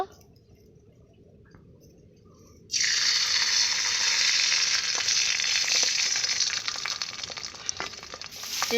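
Beaten eggs poured into hot oil burst into a loud, steady sizzle a few seconds in, after a quiet start, and keep frying close up with occasional small crackles and pops.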